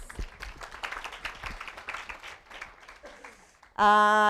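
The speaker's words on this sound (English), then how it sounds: "So thank you to all our sponsors. Can we clap for them, please?" Scattered, uneven clapping from a small audience thanking sponsors at a Women 2.0 opening session, individual claps audible and thinning out, before a loud sustained tonal sound cuts in near the end.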